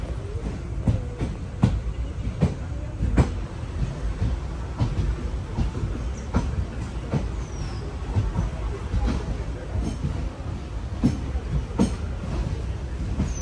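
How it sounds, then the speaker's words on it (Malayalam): A passenger train from Guruvayur rumbles into Ernakulam Town station, steady loud rolling noise punctuated by repeated sharp clacks of wheels over rail joints, heard from inside a general-class coach with faint voices in the background. "എറണാകുളം ടൗൺ റെയിൽവേ സ്റ്റേഷനിലേക്ക് ഇതാ ട്രെയിൻ എത്തിക്കൊണ്ടിരിക്കുകയാണ്"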